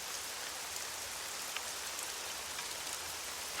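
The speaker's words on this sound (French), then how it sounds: "Il pleut des cordes en continu depuis hier." Heavy, continuous rain pours down as a dense, even hiss of many drops striking surfaces, steady and unbroken with no voices.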